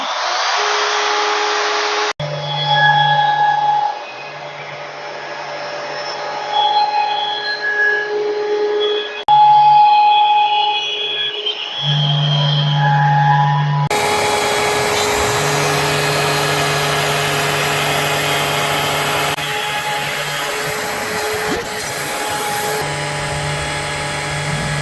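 A CNC router cuts a back rebate into a standard MDF Shaker door to take a drop-in panel, its spindle whining steadily and loud for the full stretch, the pitch shifting and the cutting tone growing harsher as the bit works through the board.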